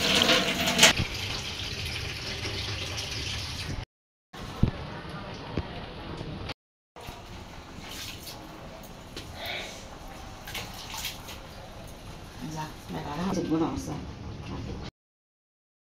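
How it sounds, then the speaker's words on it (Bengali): Water is poured into a pot of fried matar and mung lentils for khichuri, producing a steady splashing, filling gush cut by brief silent gaps, with clatter of the pot in between. "ডাল ভাজা হয়ে গেছে, এখন একটু করে পানি দিয়ে দিছে"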